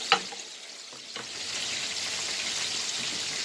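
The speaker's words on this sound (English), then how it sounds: "We're gonna kind of melt our butter." Butter melting in a hot pan for garlic butter chicken wings gives a steady broadband sizzle that builds after a couple of faint clicks and holds evenly to the end, close and moderately loud, with no talking.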